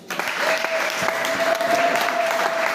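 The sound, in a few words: congregation applauding in church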